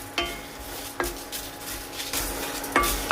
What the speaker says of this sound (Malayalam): ഈ മുളകും കൂടി ഒന്ന് ഡ്രൈ റോസ്റ്റ് ചെയ്തെടുക്കണം.